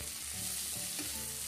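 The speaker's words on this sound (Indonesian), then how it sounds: "Oke, ini tumis sebentar lagi hingga semua bumbunya tercampur rata." Green chili, onion and green tomato are stir-fried with seasoning while cooking mackerel, giving a loud, steady sizzle up close with faint stirring, and nobody speaks.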